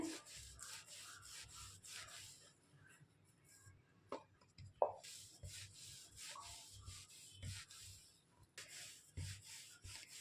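Ghee-greased shankarpali dough is rolled out with a rolling pin, producing repeated soft rubbing and scraping strokes in an uneven rhythm, close and quiet, with a couple of brief knocks midway.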